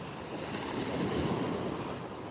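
Ocean waves wash steadily onto the shore at dawn in Maui, a continuous soft roar of surf with gentle swells and some wind noise, no voices.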